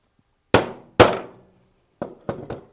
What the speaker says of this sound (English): I'm going to line it up on the peg and give it a little pop with a hammer